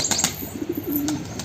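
Pet black pigeons cooing softly nearby, mixed with quick bursts of wing flapping and a few faint chirps, a short close recording with no speech.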